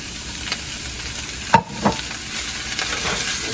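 Chicken lo mein with bok choy and bell pepper being stirred in a single hot pan, soft sizzling under a few scraping tosses of the utensil, one sharper clatter near the middle.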